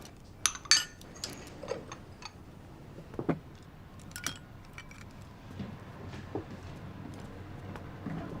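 Bowls and chopsticks handled at a home dinner table give a few bright clinks and taps near the start, then sparse, faint clatter over a low room hum.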